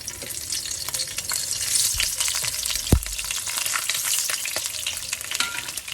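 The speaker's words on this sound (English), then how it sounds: "Adding the lemongrass now in hot oil actually infuses the oil and releases the beautiful flavor of the lemongrass." Lemongrass frying in hot oil for a Malay fish curry, a steady crackling sizzle with scattered sharp pops and one louder splutter partway through, close and continuous with no voices.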